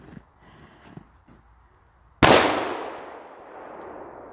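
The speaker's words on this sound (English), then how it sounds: "Ooh, that gun loud." A single loud gunshot from a Ruger SP101 .357 Magnum revolver cracks out close in a snowy outdoor setting, its echo decaying over a couple of seconds after some faint low movement noises.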